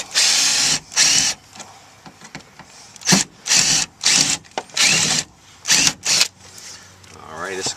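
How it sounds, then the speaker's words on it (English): Power drill cutting into the plastic front speaker mount of a Toyota RAV4, loud, close bursts of whining drilling repeated about eight times with short pauses between. "Get the drill started and go at different angles, and this will release the outer portion of it."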